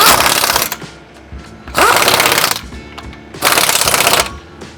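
An impact tool rattles hard in three rapid bursts, tightening the factory exhaust clamps on a 2018-2023 Mustang GT with a 15mm socket, each burst separated by brief quiet.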